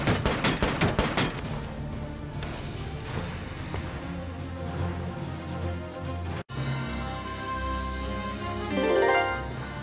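Gunfire in the tactical war game Valkyria Chronicles 4, starting with a fast burst of machine-gun shots, then echoing battlefield noise with a short cutoff and a swelling rumble toward the end.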